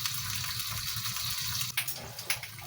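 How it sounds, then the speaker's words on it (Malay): Water pouring steadily into a pan of chicken in sambal, a continuous gushing splash that breaks into a few sharper spills near the end. "Letaklah air sedikit untuk kuah."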